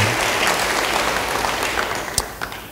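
A church congregation bursts into loud, sustained applause, many hands clapping together in a dense, continuous wash that tapers slightly toward the end.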